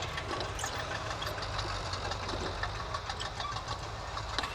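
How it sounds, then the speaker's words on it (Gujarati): An engine on a land levelling machine runs steadily with a rough, knocking idle and low rumble, close and continuous throughout with no talk. "ટીકુભાઈ માથે એન્જિન લગાવે છે"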